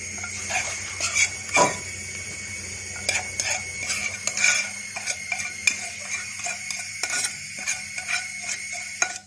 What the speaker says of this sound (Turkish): Şöyle yağ biraz sıcak. Şöyle biraz harmanlayın.